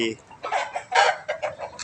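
A fighting cock rooster crows and clucks in short bursts close by, the calls broken into several loud pulses with brief gaps between them.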